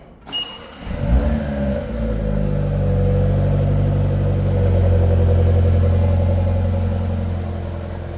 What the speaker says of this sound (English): So that's the cold start sound.